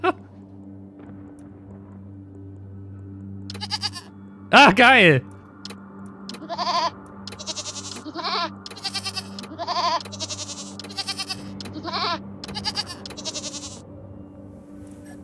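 Goat in the game Wasteland 3 gives one loud, wavering bleat, with several short animal calls following over a steady game hum while someone speaks briefly.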